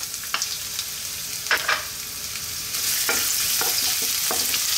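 Ginger sautés in hot oil for Bicol Express, a steady sizzle that swells louder midway, with intermittent spatula scrapes and taps against the pan, close up and with no talking.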